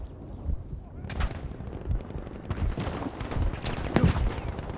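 Battlefield V gameplay gunfire crackles in rapid bursts of shots and automatic fire, with sharp close reports over a busy battle din.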